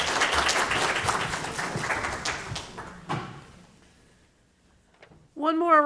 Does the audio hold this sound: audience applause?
yes